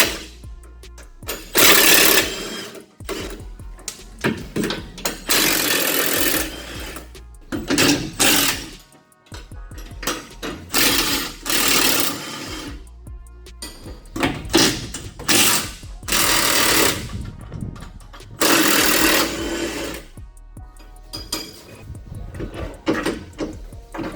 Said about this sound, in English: Now take the bolts out of the cross member.